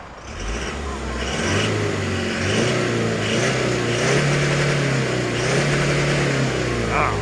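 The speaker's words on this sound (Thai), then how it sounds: "รอบครับรอบ คันนี้เป็นท่อเดิมนะครับ" A remapped commercial vehicle running a stock exhaust, its engine revving repeatedly in rising and falling surges, close and loud, with someone talking over it.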